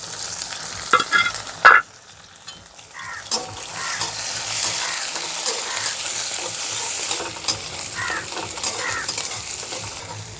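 Chopped garlic, chilli, onion, carrot and capsicum sizzle steadily in a pan over high flame for egg fried rice, with a constant hiss and occasional louder stirring scrapes, close and without speech.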